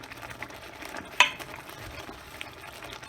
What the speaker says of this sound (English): And you just give your tomatoes a stir with the garlic.